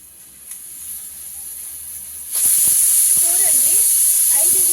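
A pressure cooker on a lit gas stove releases steam through its whistle while rice cooks, a loud steady broadband hiss starting abruptly and holding, with faint voices over it.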